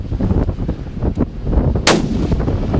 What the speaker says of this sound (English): Good shot. Take him again.